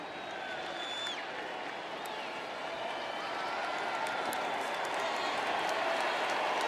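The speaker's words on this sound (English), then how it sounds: "Appreciative round of applause from the Georgia fans" Georgia fans applaud at the Sugar Bowl against Baylor, a broad, diffuse stadium crowd wash at moderate distance that builds slightly, with a commentator talking over it.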